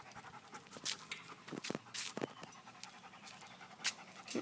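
A dog pants in quick, uneven bursts close by, with short breathy huffs coming and going; the setting is a home with a dog kennel.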